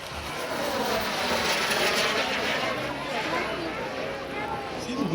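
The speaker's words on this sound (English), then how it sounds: "See the wind how it's buffeting it around as it's going over? Again, we're flying and it's rolling off these trees." Airshow airplane passing overhead at a children's charity airshow in Louisville, Kentucky, a steady loud engine roar with wind buffeting, swelling and fading slightly while someone talks over it.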